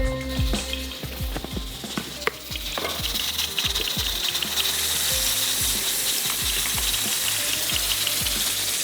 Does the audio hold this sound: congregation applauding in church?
no